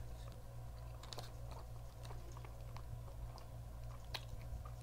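Someone chews a soft, squishy banana close to the mic, producing faint wet mouth clicks and small squelches scattered irregularly over a low steady background hum.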